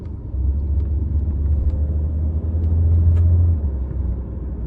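A 2020 Renault Kadjar with 119,000 km accelerating, a steady low engine rumble heard from inside the car that builds slightly toward the middle and then eases, with no talk over it.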